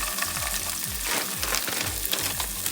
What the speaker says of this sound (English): Now that I've got the bacon out of the skillet, I'm gonna go ahead and add my green peas.